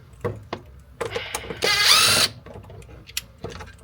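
Power drill backing screws out of an Evolution D5 golf cart center console, with one loud whirring burst of about half a second among scattered clicks, taps and ratcheting handling noises.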